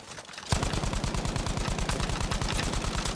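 Rapid automatic gunfire with heavy recoil in Battlefield V bursts in loudly after a brief quiet moment, a fast, even stream of close, punchy shots that runs without pause to the end.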